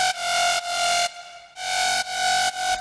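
Synth patch made in Serum for a remake of a song, heard through a second reverb: a loud, bright sustained chord pulsing in rhythmic chops, with one brief gap in the middle and no talk.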